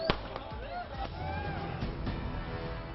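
Fireworks set off by celebrating farmers in the middle of a road: a sharp, loud bang opens, followed by a few scattered pops under a constant murmur of crowd and street noise.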